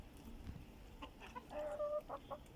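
Chickens on a farm cluck softly close by, a few short, tonal calls that rise and fall over a low background murmur.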